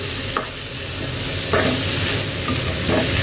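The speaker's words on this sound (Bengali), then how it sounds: "দুপুরে রান্না হচ্ছে এখন তো এটা হলো পেঁপে ভাজি" Papaya bhaji stir-fried in a pan crackles with a steady sizzle, broken by a few distinct spatula scrapes and stirs, close and without speech.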